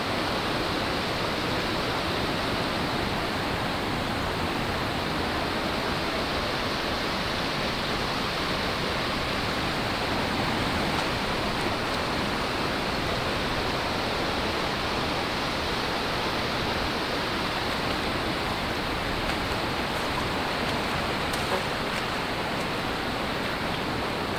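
Rushing, rising flood water at the sea, a loud steady broadband roar that holds without a break for the whole stretch, with no voices over it.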